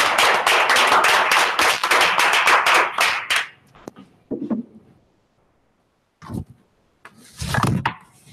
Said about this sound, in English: folks, a round of applause for the achievement?